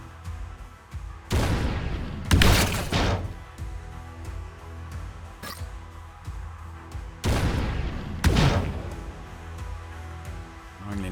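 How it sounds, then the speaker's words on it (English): Acid grenades and combat effects in Deep Fringe erupt as heavy, booming bursts, with several loud blasts in two clusters separated by quieter rumbling gaps. "I'm going to need to fire an acid grenade in there, I think."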